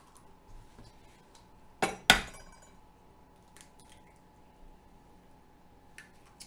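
Two sharp cracks, one right after the other, as two eggs are broken on a bowl rim for a smoked meatloaf mix, close and distinct over a quiet kitchen background with a few faint clinks.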